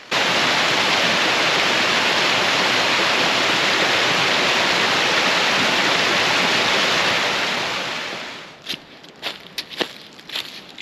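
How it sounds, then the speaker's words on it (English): Little Hillbilly Waterfall on the Pinhoti Trail in Alabama roars as a loud, steady wash of falling water that fades away near the end, leaving a few soft footsteps. "The next one is Little Hillbilly Waterfall. This one's even bigger."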